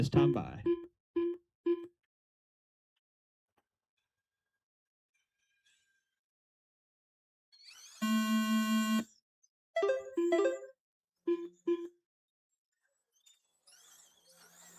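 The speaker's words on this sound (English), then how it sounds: "in this one, you will hear two different leader tones" Electronic lap scoring leader tones at an RC dirt oval club race sound as short repeated beeps in bursts, including one longer buzzing tone, with quiet gaps between them and some brief talk.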